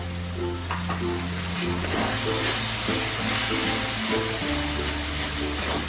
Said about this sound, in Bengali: এবার গ্যাসের ফ্লেমটাকে কম করে একটু ভালো করে কষিয়ে নেবো